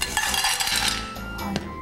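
Scrubbed clams (asari) being dropped into a cooking pot, giving close, clattering shell-on-metal clinks and rattles over about two seconds, with a sharper knock near the end.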